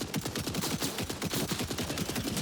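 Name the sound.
Jakobs assault rifle gunfire in the video game Borderlands 4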